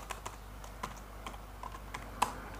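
Computer keyboard keys clicking in short irregular bursts while a spreadsheet entry is made in OpenOffice Calc, close and fairly quiet with no talking.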